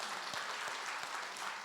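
Steady applause from a church congregation at an evangelism testimony service, a dense continuous patter of many hands clapping at even loudness throughout, with no voices over it.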